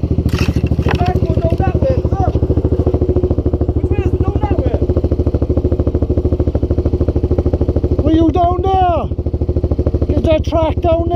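A Yamaha YFZ450 quad's engine runs close and loud with a steady, fast-pulsing idle while the vehicle sits stuck, with voices talking over it throughout.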